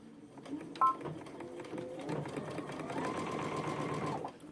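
A sewing machine running a back tack on a backpack side panel with a walking foot at a quarter-inch seam, starting with a short burst, then stitching steadily at close range before stopping abruptly.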